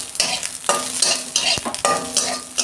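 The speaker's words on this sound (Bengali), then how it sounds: "আমি এইটা একটু তেলে ভেজে নিচ্ছি।" Oil sizzles loudly in a pan during preparation of a tomato mash with curry leaves. The steady crackle is close, broken by several rhythmic stirring scrapes, and no one speaks.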